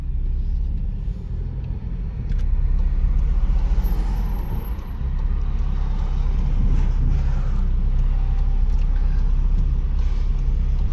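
A stage 1 tuned Volkswagen Passat B8 pulls away in traffic, a loud, steady low engine rumble with road noise close by, swelling slightly as it drives off, no speech over it.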